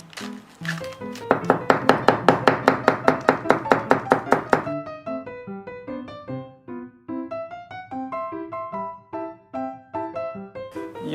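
A knife finely chops cabbage on a board for takoyaki, first in a fast, even burst of crisp strokes, then in slower, uneven taps, close and clear.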